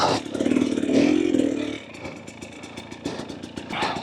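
A 2024 Husqvarna TE250 TBI dirt bike fitted with an FMF Turbine Core 2.1 exhaust, ridden on an eroded trail, revs loudly at first, then drops to a lower burbling putter with clattering before picking up again.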